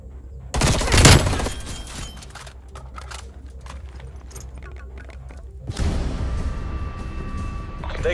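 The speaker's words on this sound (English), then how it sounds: "Gunfight. Weapons hot." Video game gunfight with a loud burst of rapid gunfire near the start, then scattered fainter shots and clatter, with a rising roar of sustained fire toward the end.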